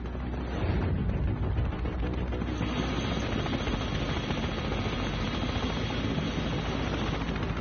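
A helicopter's rotor and engine roar close and steady, a dense continuous drone that swells in the first second and then holds loud and unbroken to the end, with no voices.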